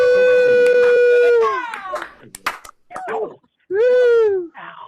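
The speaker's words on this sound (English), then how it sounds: "we just cheer and shout for those amazing artists we just heard" Unmuted members of an online concert audience cheer and shout for the performers, with loud sustained whoops and howls, scattered claps and smacks, and a final long yell among short excited calls.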